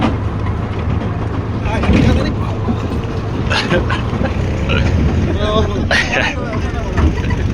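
A tractor ride in Nepal's Dade Khola: a steady low engine drone and rattling, jolting bed noise run throughout, with people talking and chattering over it.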